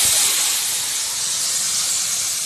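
Dried red chillies, bay leaf and cumin seeds crackle in hot oil as a Bengali tempering for shukto, a steady loud broadband hiss and sizzle running unbroken throughout, with no voices.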